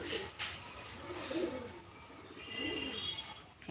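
Male pigeons set outside for the day coo faintly in low, throaty rolls, with a few brief chirps over quiet background noise.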